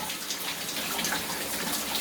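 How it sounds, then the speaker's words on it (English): A shower running in the background makes a steady, broad hiss of falling water with soft irregular patters, continuous and fairly loud, with no talk. "you can still probably hear the shower dripping in the background"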